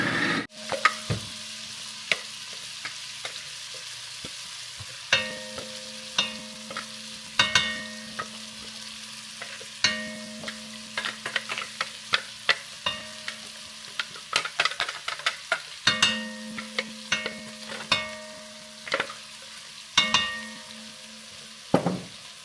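Garlic stirred into a hot soup pot, a broccoli cheddar soup in the making, with repeated scraping and clinking strokes over a low sizzle, steady and close, no talking.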